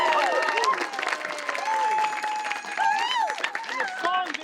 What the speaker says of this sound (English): big round of applause for our band